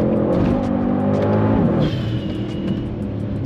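A Mercedes-AMG GT Brabus 800, a heavy two-tonne-plus car, is driven hard through very tight corners, its engine droning loud and steady from inside with pitch shifts as it takes the bends and a faint tire squeal partway through.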